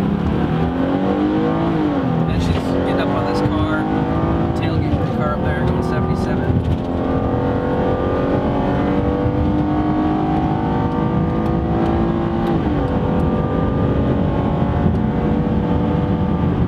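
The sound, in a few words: car speeding on freeway during police pursuit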